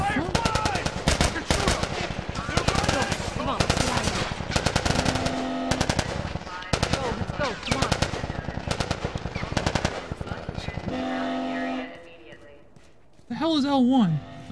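Rapid bursts of automatic gunfire from The Last of Us, loud and repeated in volleys over game music and shouting voices, ending with a pause and a short rising synth tone.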